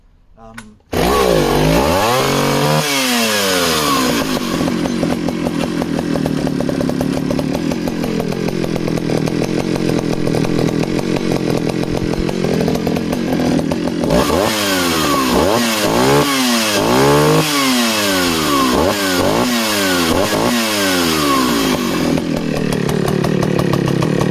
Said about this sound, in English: So she's running just flawlessly